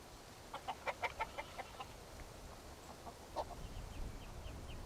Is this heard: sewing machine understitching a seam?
no